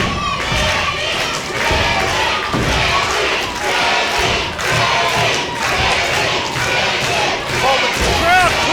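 A wrestling crowd at a live pro-wrestling event cheers and shouts continuously, loud and dense, with thuds from the ring breaking through the roar.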